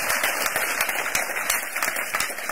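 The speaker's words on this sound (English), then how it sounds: "Clap for Jesus Christ once again" Steady applause from a church congregation fills the room, dense clapping with sharp individual claps standing out, fairly close and continuous throughout.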